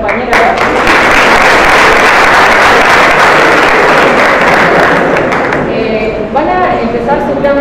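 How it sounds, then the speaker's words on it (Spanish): An audience at a Spanish-language introductory talk applauds a classmate with steady, dense clapping for about six seconds, then fades as voices start talking. "Un aplauso a la compañera."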